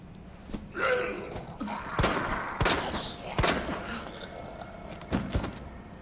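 Gunshots ring out in Resident Evil 2 Remake, several sharp loud cracks spaced irregularly over a few seconds amid game ambience and brief vocal gasps.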